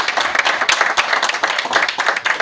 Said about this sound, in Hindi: ताली बजा के मैं आपसे अनुरोध करता हूँ स्वागत करें।